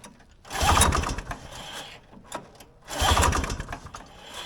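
A vintage Polaris Colt snowmobile engine sputters in two rough bursts of cranking and brief firing, loud and close, with quieter pauses between.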